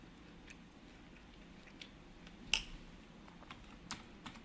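Typing on a UHK (Ultimate Hacking Keyboard) computer keyboard: sparse, faint key clicks spaced irregularly, with one sharper, louder tap in the middle, over a low background hum.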